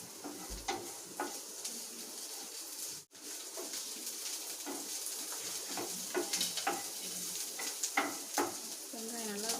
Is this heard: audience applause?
no